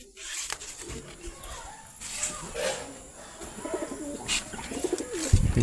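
Pigeons cooing close by in a coop with a pigeon said to attack other pigeons, soft repeated throaty coos over a busy background with faint human voices.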